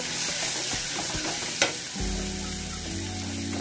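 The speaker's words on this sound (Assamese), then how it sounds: "এইখিনি মই ভাতদৰে লৰাই দিম" Raw banana curry sizzles in a hot pan with spices as it is stirred, giving a constant close frying hiss with scraping spoon strokes and a brief clank, no voices present.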